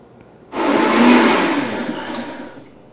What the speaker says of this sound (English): Okay, so we're going to blend this again. Cody, do you want to turn it on?